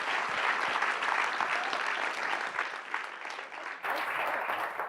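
A room full of people applauding Ohio state senators at a NEXUS US event, dense continuous clapping that holds steady for several seconds, slightly dipping before a brief swell near the end.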